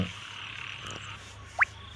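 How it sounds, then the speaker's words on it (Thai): A small frog gives a single short croak in a field at night, rising out of steady insect and ambient noise, with no voices. "นี่ตรงนี้มีตัวครับ เขียดครับ"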